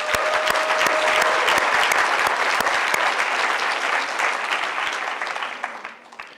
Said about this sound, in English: Let's give them a hand one more time.